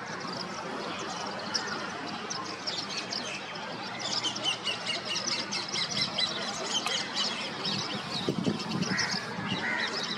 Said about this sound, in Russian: Попугай повторяет.